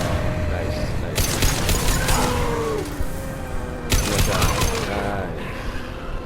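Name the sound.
gunfire in video game Mass Effect 2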